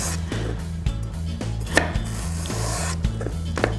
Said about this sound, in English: I just cut it in half, and then from there, I create little slices